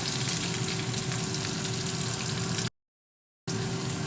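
Mushrooms fry in a pan with a steady, close, dense sizzle that cuts out to silence for under a second before resuming just as loud.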